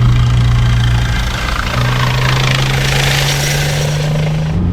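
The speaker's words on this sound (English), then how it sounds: "There's a helicopter right ahead, landing pretty much in front." A helicopter lands nearby, its steady rotor and engine drone heard from inside a moving Porsche GT4 RS over that car's own constant engine hum.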